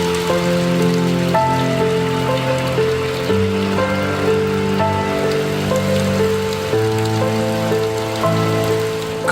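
Steady rain falls in Wayanad, Kerala, as a continuous dense hiss that fills the whole stretch, with sustained music tones playing over it.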